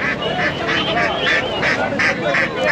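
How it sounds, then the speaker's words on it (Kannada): Ducks honk and quack steadily at a village country-chicken poultry market in Chandapura near Bengaluru, with repeated close calls over a constant busy market background. "ಬಾತು"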